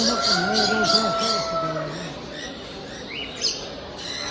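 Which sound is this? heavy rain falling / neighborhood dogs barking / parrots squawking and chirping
parrots squawking and chirping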